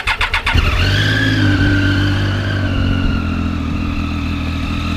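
A motorcycle engine cranks with a quick burst of starter pulses, catches, and settles into a steady, loud idle close by with no talking.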